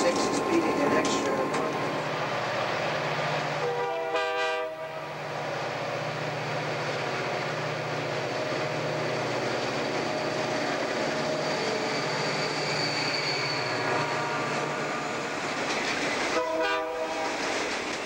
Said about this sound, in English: our train pulls ahead to the interlocking signal